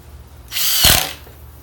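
A Ryobi impact driver on a lesser battery drives a screw into a 2x4, one short close burst of whirring and rapid impact hammering lasting under a second.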